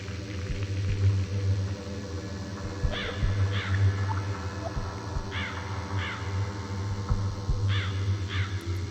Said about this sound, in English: Strange sounds recorded from the painting Tree of Crows.